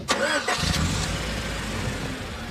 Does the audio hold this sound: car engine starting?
yes